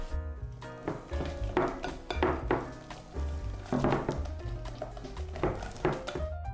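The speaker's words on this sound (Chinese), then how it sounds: "加入面粉，搅拌成均匀的面糊" Flour being stirred into cake batter in a bowl, heard as a steady run of rhythmic scraping and clinking of utensil against bowl, fairly close and even, with no talking.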